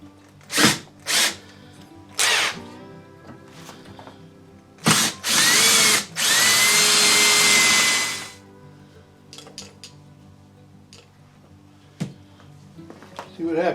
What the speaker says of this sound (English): I'm going to try and drill this through here as straight as I can